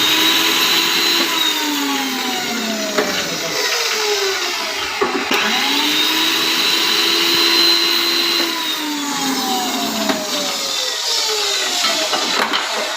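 A new Korean-made single-phase rebar bending machine runs a test on steel bar up to 25 mm, its motor whining up and down in repeated sweeping cycles, loud and close, with occasional clanks and no talk.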